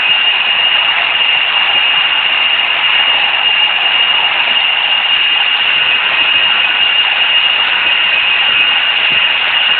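Airbus A321-200 jet engines spooling at takeoff power in the Infinite Flight simulator, a loud, steady broadband roar with a sustained high whine, continuous and unchanging throughout with no talk.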